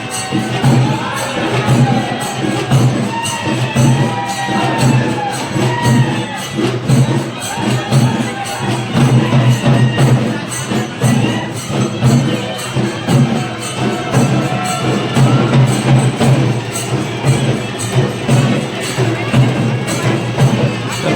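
A large, dense crowd fills a temple fair (yatra) with continuous murmur and chatter, steady and loud throughout, with a low drone of festival noise underneath.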